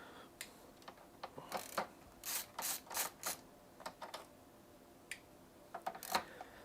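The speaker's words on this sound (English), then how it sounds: "removing all these screws" A screwdriver ratchets and scrapes in quick, faint bursts while screws come out of a PS5 Slim console, an irregular string of small clicking, grinding twists with short pauses between them.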